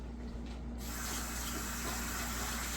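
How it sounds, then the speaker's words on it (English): Water runs from a kitchen sink tap while hands are washed, a steady close gushing hiss that swells slightly after the first moment and holds throughout, with no voices. "let me rush over here and wash my hands."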